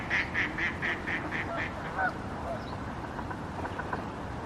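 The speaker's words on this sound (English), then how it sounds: "I'm gonna go hang out with the ducks." Ducks quack in a quick series of nasal calls at a New Zealand pond, moderately close at first and then fading into scattered fainter calls over steady outdoor ambience.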